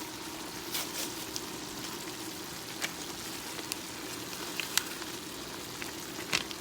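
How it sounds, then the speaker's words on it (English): Beef for a stew searing and browning in a pot, giving a faint, steady sizzle with scattered sharp crackles and pops throughout, no voices. "I'm going to sear this and brown it for 8 to 10 minutes"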